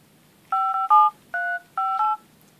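Keypad tones from the phone dialer on a CyanogenMod Xperia Play, five short, clear beeps in an uneven rhythm, close and alone.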